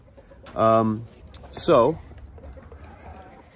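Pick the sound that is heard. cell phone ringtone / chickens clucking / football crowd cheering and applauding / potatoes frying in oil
chickens clucking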